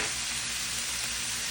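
Ground beef sizzles and fries in a hot pan, a steady, close hiss of spitting fat that runs unbroken throughout with no voices.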